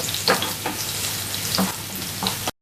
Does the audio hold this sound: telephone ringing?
no